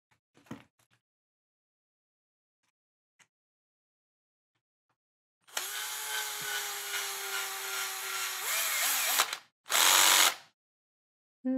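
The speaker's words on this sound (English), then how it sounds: "And screw it in." A screw driven in by hand during assembly of a FastEddy DR10 bearing, heard as a close, dry ratcheting grind lasting a few seconds, then a short sharp burst after a pause, with near-silence before.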